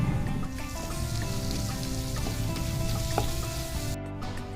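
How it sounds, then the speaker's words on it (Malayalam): Cashew nuts fry in hot oil in a pan previously used to fry onions for biryani, giving a continuous, close, even sizzle with a few faint clinks. "സവാള വറുത്തെടുത്ത ചട്ടിയിലേക്ക് കുറച്ച് ഞാൻ കാഷ്യൂ നട്ട്സ് വറുക്കാനിട്ടിട്ടുണ്ട്"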